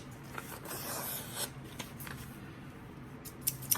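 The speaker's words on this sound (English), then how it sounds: "I think I'm gonna cut it with scissors this time just to make sure it's an even" Scissors cutting folded paper for a homemade ninja target game, a series of quiet crisp snips and rustling paper scrapes, close but faint, with a few sharper cuts near the end and no talking.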